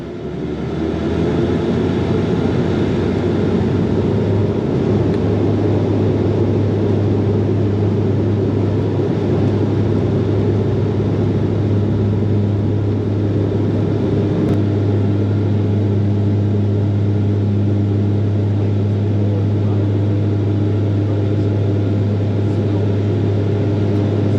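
A Nexus Airlines airplane taking off from Kununurra fills the cabin with a loud, constant low engine roar and deep droning hum that holds steady throughout with no pauses.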